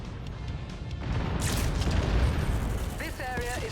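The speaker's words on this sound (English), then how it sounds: "Somebody's shooting at us." MechWarrior combat with heavy gunfire and deep booming explosions rolling in, rumbling blasts swelling midway and sustained, with a voice talking over the battle noise.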